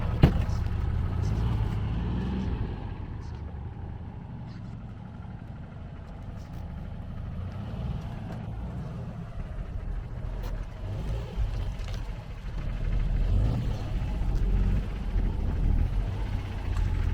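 A small vintage Porsche 356 sports car engine runs steadily at a low, soft idle with a faint muffled hum, swelling slightly louder near the end, with no voices heard.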